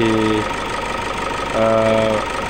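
Toyota Fortuner diesel engine being cranked by its starter without firing: a droning, buzzing starter whir with a harmonic whine in two stretches and a lower steady mechanical hum between them, close and loud.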